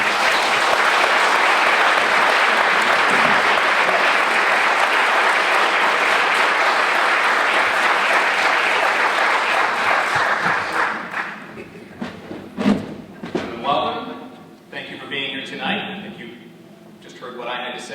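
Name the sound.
audience applause welcoming debate candidates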